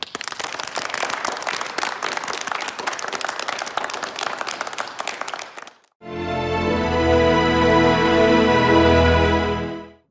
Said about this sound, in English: Show your appreciation at the end with an applause.